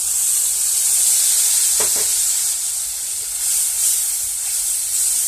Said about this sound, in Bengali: জিরে, আদা, লঙ্কা, হলুদ একসাথে ভিজিয়ে রেখেছিলাম জল গুলিয়ে, সেটা আমি দিয়ে দিচ্ছি।